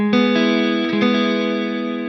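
A spread triad inversion chord, root raised an octave, strummed on electric guitar, sustaining and ringing with a slight effect, then struck again briefly before fading.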